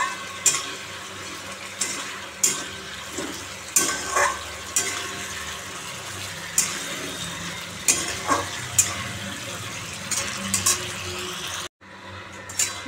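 Eggs being sautéed in a pan for a Bengali egg curry, a continuous sizzle with repeated scraping stirs every second or two, close and fairly loud, briefly cutting out near the end.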